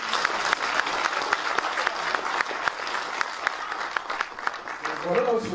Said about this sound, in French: si on peut les applaudir